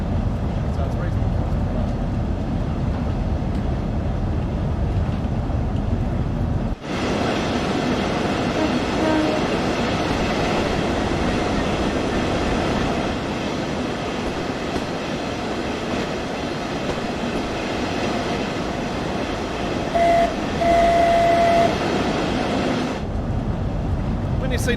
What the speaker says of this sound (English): you got to sound your horn or you just blow the whistle